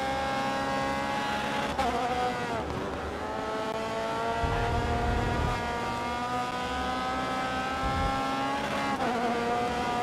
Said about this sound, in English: This little car, this Formula C, has the tendency to spin out on corner exit with some oversteer.